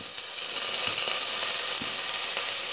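Cauliflower florets frying in hot oil in a pan for a vegetable tehri, giving a steady, loud, close sizzle with faint crackles throughout and no voices.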